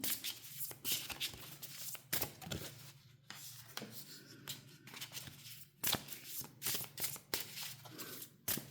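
Tarot cards are shuffled and drawn by hand in a quiet room, a run of soft riffling bursts and crisp flicks with short pauses between, close and fairly faint.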